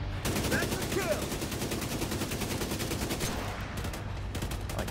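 An auto rifle rattles off steady automatic fire in The Division 2, a sustained close burst that stays loud for several seconds before tapering near the end.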